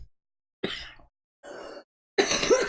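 A person coughs in three separate bursts, the first and last harsher and louder, with near-silent gaps between them.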